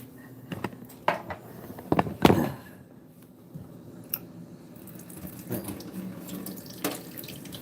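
Vape coils are rinsed under a running tap at a sink, with water splashing and spattering unevenly and close by, plus scattered handling knocks and clicks and no speech.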